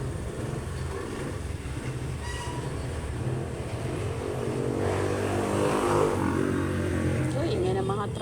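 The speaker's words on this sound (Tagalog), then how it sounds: "So, ingay ng mga tricycle talaga." Tricycles pass by outside on a street, a steady rumbling engine drone that swells louder toward the middle and stays fairly distant, with a voice speaking over it.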